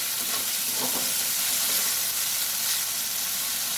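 Dried fish (shutki) frying in a pan until browned, giving a continuous loud sizzle with a few stirring clinks near the start and no talking.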